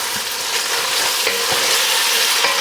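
Bacon sizzles steadily in a hot pan, a loud, dense crackle with occasional sharper pops and the scrape of stirring, heard up close and without talk.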